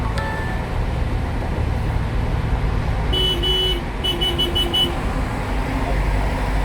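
A car horn gives a short honk and then a quick series of beeps over the steady rumble of road traffic.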